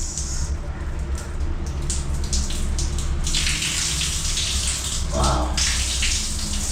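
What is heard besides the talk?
shower water running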